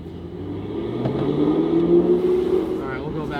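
A Chevrolet Camaro engine revs hard on a test drive, a steady rising drone that climbs in pitch and then eases off as the car shifts, heard from inside the cabin with a voice talking over it.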